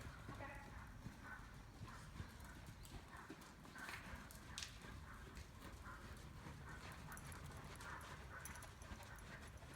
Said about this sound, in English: have a canter on the right when you're ready